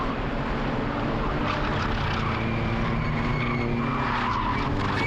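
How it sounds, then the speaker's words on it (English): Suzuki Swift race cars from the 1.6 class at the Hungaroring circuit, climbing toward a left-hand corner on a drying track, with steady loud tyre squeal layered over engine roar throughout. "Here a lot of tyre squeal"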